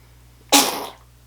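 A single sneeze bursts out, close and sudden, then fades quickly into quiet.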